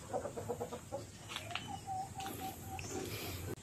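Japanese Shamo chickens on a farm clucking, a quick burst of short close clucks followed by a few drawn-out calls and softer chatter against faint background noise.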